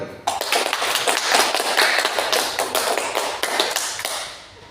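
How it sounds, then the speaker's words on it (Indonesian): A group of people clap their hands together in a classroom group guidance session, a dense burst of close, rapid claps lasting several seconds before tapering off. "Tepuk tangan lagi."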